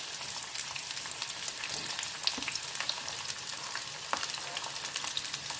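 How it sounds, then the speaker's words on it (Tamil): Onions with garlic and ginger sautéing in a pan for a breakfast dish, a steady medium sizzle broken by occasional scrape and stir taps, close and even, with no talking. "இப்போ வெங்காயத்தை நல்லா வதக்கிடலாம்."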